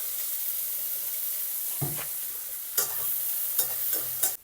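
Butter and olive oil frying in a pan for pasta, a steady close sizzle with a few louder scraping stirs toward the end.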